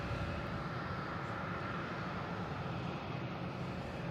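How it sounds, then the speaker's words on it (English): An American Airlines Boeing 777, in from London Heathrow, taxiing toward the terminal at Boston Logan, gives a steady, broad jet rumble and whine that holds evenly throughout, with no voices. "Got that big American 777 that came in from London Heathrow, heading back to the American terminals behind Garage B"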